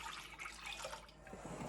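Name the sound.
pouring water for Texas sheet cake batter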